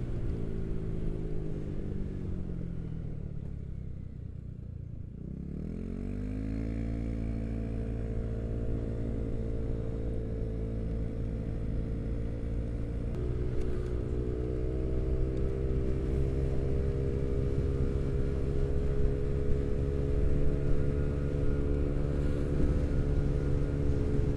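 A motorcycle cruises at 80 km/h with a steady engine drone and constant wind rush, recorded up close on the bike, the revs dipping briefly early on before settling into a continuous hum.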